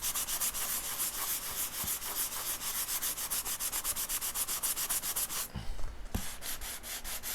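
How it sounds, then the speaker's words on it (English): Rhythmic back-and-forth rasping of a sanding block on a black limba guitar headstock, sanding down to maple, quick regular strokes up close, pausing briefly before resuming. "So we're going to continue sanding this until we get down to maple."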